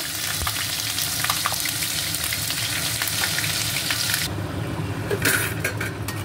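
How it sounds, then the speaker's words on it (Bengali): Garlic, ginger, onion and tomato paste sautéing in a pan, a loud continuous sizzle and frying crackle with stirring scrapes that drops slightly in brightness near the end. "এটা কষিয়ে নেব।"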